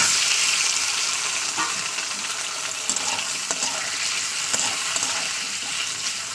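Tomato pieces fry with browned onion in hot oil, giving a dense continuous sizzle with occasional stirring scrapes and small pops, close and steady with no talking.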